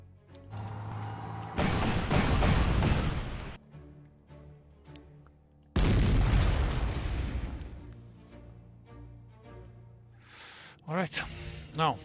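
Heavy artillery fire in the Panzer Corps strategy game, two long roaring booms each lasting a couple of seconds with a pause between, followed by quieter rumbling, short pops and clicks near the end.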